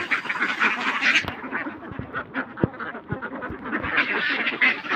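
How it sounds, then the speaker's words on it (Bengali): A large flock of about 400 ducks being kept for sale raises a dense, continuous chorus of overlapping quacks, loud and close, with a few sharper individual calls standing out. "এই হাঁসগুলি বিক্রি করা হবে, আপনারা দেখুন।"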